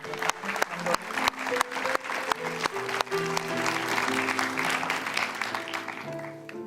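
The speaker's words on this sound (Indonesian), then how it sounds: "Kita kasih tepuk tangan dong." A studio audience on a Kompas TV talk show breaks into applause, with bursty clapping that grows into a steady patter over background music tones and some talk.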